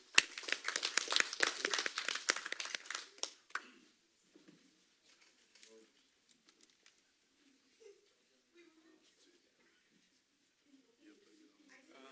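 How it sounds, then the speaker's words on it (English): A crowd claps at a city council meeting, a dense burst of applause for about three seconds that quickly dies away into near silence with faint scattered noises. "Round of applause."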